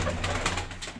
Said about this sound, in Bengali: এই যে কবুতরগুলো এখন বের হয়ে যাচ্ছে